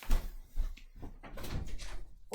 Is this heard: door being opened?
yes